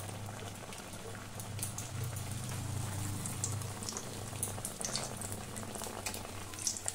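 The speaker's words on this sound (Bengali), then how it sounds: "এবার চপগুলো তেলের মধ্যে ছেড়ে দেব।" Potato and egg chops bubbling in hot oil, a steady close crackle and boil throughout with no voices, the sizzle broad and even with scattered sharper pops.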